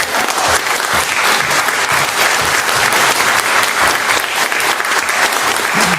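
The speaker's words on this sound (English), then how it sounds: "we really need to applaud her for that." Loud, dense audience applause rings out at a public discussion, many hands clapping in a continuous, even roar that holds from start to finish without a break.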